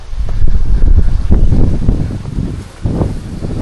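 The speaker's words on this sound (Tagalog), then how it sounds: "Hindi kaya sabog yung sounds dito pag ganitong mahangin." Wind buffets the microphone of a DJI Osmo Action 5 Pro camera outdoors, heavy low rumbling gusts swelling and easing unevenly, loud and close, with no voices.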